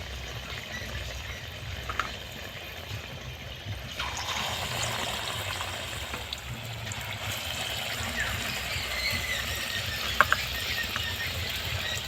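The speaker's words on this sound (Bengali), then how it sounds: "এবারে আমি কড়ার মধ্যে এই কলাগুলো দিয়ে দিলাম একটা একটা করে ভাজবো" Raw banana slices fry in hot oil in a wok, a continuous hissing sizzle that grows louder as more slices go in, with occasional faint clinks.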